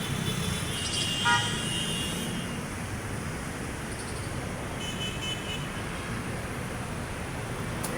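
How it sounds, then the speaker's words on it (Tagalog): Steady road traffic noise on a congested road near the Skyway, with a car horn tooting briefly early on over the continuous roar of engines. "Tayo guys, traffic tayo dito."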